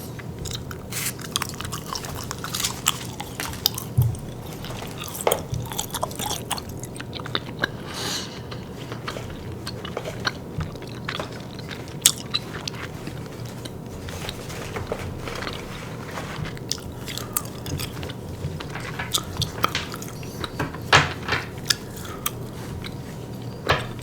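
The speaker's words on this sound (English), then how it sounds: "So I'm going to take this piece of Juicy Fruit Starburst gum and dunk that in my mouth" Someone chews a piece of Juicy Fruit Starburst gum close to the mic in a quiet ASMR-style setting, with steady wet smacking and biting sounds repeating throughout, no talking.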